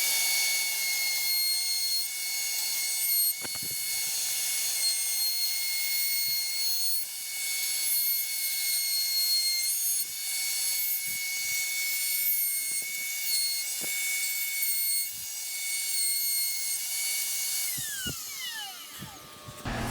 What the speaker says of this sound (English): I'm just going to go ahead and route around the body.